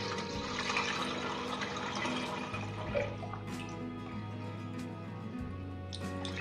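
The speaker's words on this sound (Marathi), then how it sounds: "अशा पद्धतीने आपण सर्व चीक गाळून घेऊ." Wheat extract (chik) for kurdai is strained through cotton cloth, giving a steady wet trickle with soft drips over a low continuous hum, with no talking.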